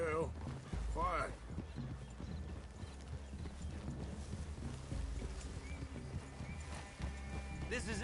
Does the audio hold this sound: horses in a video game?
yes